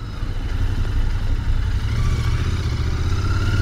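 A Royal Enfield Continental GT 650 with its twin-cylinder engine rumbles steadily while being ridden, a loud, close, low throbbing drone with wind rush that holds even throughout.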